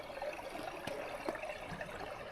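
Water trickles and gurgles beneath a sheet of ice roughly six inches thick on a mountain trail, a faint continuous liquid murmur with a couple of small clicks, quiet and close with no voices.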